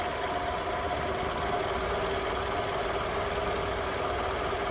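A car engine idling steadily during an alternator test, a continuous even mechanical hum with a faint ticking texture and no change in level, heard close up without talk.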